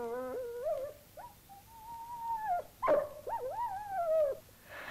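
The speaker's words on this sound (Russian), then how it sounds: "Там маленькая собачонка." A small dog whimpers and whines in a string of high, sliding, nasal cries with brief pauses between them. It is close and fairly clear, with no one talking.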